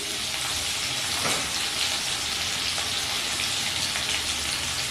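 Boiled potatoes fry in oil over a medium-high flame with turmeric, giving a constant close, even hiss and crackle, with a brief stir or scrape early on; no talking.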